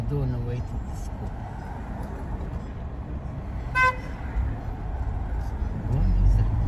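A car horn gives a single short toot amid steady New York City street traffic, heard from inside a moving car, with engine rumble underneath.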